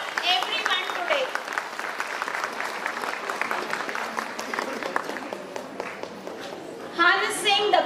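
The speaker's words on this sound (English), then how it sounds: "Let us give a big round of applause for everyone today." A school audience of parents and students claps at an annual prize distribution and cultural programme, a sustained round of applause at moderate distance that briefly swells near the end, with some voices mixed in.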